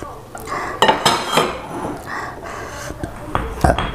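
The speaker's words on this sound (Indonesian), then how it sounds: "Ayo kita nyuci piring." Dishes, plates and cutlery clatter and clink in irregular bursts as they are gathered up after a meal, close by, with breathy sniffs and faint voices in between.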